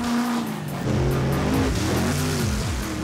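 Loud, roaring truck engines rev and churn, with a rough, splashing wash of noise as heavy vehicles tear through mud puddles at a South Carolina mud event, steady and close.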